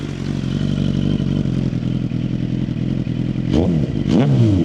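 A Suzuki GSXR motorcycle engine held against a two-step limiter, a loud, steady, stuttering drone with rapid cut-outs, then two sharp revs near the end.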